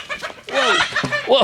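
Roosters in a rooster pen give loud, close, rising squawking calls in quick bursts, with a person briefly exclaiming over them.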